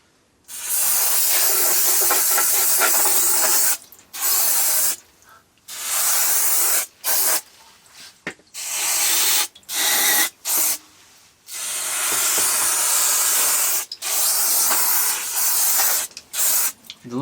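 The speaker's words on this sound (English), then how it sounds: "Give it a last rinse and that's it." Pressurized water spray rinsing hot, oily engine parts from a Suzuki during valve lash work, heard as loud hissing bursts that start and stop repeatedly, each lasting a second or several, with short quiet gaps between them.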